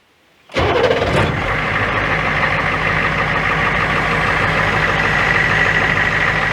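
A Marine Corps surplus HMMWV Hummer diesel with 14,000 miles turns over and fires up on a hot day without glow plugs, catching quickly and settling into a loud, steady rumbling idle close by.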